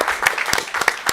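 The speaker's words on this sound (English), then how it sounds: "Yes, definitely clap for them." A school board meeting audience gives a short round of applause for three high school students. Several people clap at once, with close, moderately loud claps in a quick burst of about a second.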